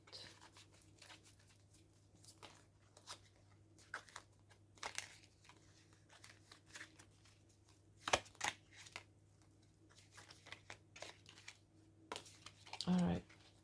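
Tarot cards are shuffled for a reading, giving soft intermittent riffles and slaps of card stock at close range, with a louder rustle near the end and quiet gaps between.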